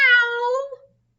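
A single close, clear cat meow, drawn out and falling in pitch, that lasts under a second and is followed by silence.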